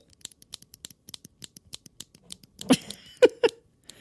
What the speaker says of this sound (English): this satisfying and or annoying clicking sound